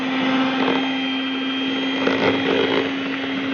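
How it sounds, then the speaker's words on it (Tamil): A blender runs continuously with a steady motor hum and churning whir, loud and close, without any pause; blending a milkshake. "இப்போ வந்துட்டு நம்ம இதை blend பண்ண போறோம்"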